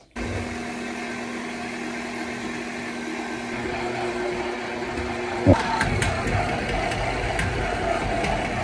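A motorized mixer beating chocolate chip cookie dough in a home kitchen, a steady whirring drone that runs throughout with a single sharp knock partway through.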